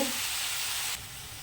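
Boiled taro leaves are stirred in hot spiced oil in a pan, giving a brief, loud frying hiss that drops suddenly to a quieter sizzle.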